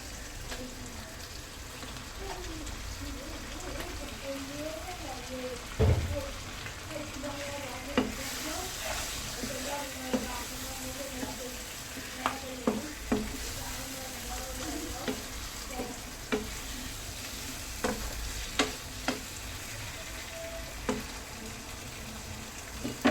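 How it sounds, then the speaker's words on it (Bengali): Chopped rohu fish head sautéing in a pan, a low steady sizzle broken by repeated scraping and clinking stirs against the pan, fairly close and alone, with no talk. "মাছটা দিয়ে ভালো করে কষে নেবেন।"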